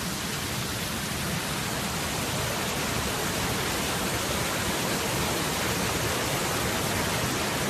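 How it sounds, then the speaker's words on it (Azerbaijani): Waterfall in Goygol National Park, Azerbaijan, a dense, unbroken roar of rushing water that stays loud and even from start to finish with no other sounds. "Ancaq şəlalə qabaq hissədədir."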